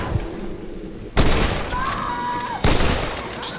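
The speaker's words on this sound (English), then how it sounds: "They're shooting down on us!" Enemy gunfire in the video game Red Dead Redemption, two sharp, loud gunshot blasts with lingering echo, plus a brief whistling tone in between.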